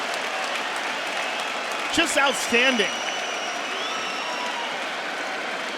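A large arena crowd at a UFC fight applauds and cheers steadily as a wash of distant noise under a commentator's voice.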